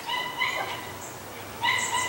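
A dog barks in two short bursts separated by a pause, somewhat distant and muffled, over a steady low background hum.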